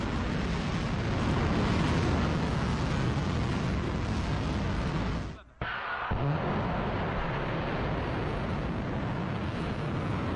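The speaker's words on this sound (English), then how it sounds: "Iranian media released the video set to show the launch of missiles against Israel." Iranian missiles launch against Israel with a continuous, roaring blast of thrust that fills the whole span, dips briefly into near silence midway, then the heavy rumbling roar resumes just as strongly.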